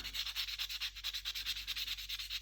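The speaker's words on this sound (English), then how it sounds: "I'm just going to give them a light sanding with, this is 150 grit" Rapid back-and-forth scratching of 150-grit sandpaper on wood, a steady rhythmic rasp heard up close.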